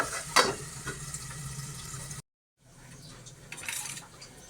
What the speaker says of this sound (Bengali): এটাকে একটু ভাজতে থাকি।